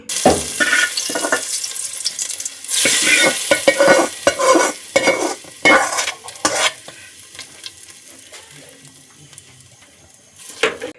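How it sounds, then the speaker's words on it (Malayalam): Mustard seed tempering poured into a pot of cooked country chicken, bursting into loud sizzling and frying bursts with stirring clatter, then settling into a quieter, steady simmering hiss before another brief flare near the end. "അതിലേക്ക് നമ്മളിത് കടുക് തളിച്ച് വെച്ചിരിക്കുന്ന ഐറ്റംസ് ഒന്ന് ഒഴിച്ചു കൊടുക്കാം കേട്ടോ"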